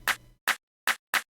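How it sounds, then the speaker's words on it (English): Amapiano clap samples from Caustic 3 sound alone as four short, crisp, bright hits, the first with a faint low tail, spaced unevenly and close. "this is how my claps sound like"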